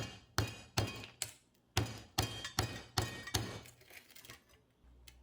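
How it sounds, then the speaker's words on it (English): Repeated sharp metallic strikes of a hammer on a titanium rod, breaking hard chunks of alkali metal in an irregular rhythm, some blows heavier, faint and close. "I collect what I can with my titanium rod and hammer."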